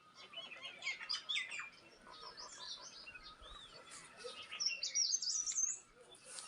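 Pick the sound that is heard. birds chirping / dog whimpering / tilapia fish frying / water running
birds chirping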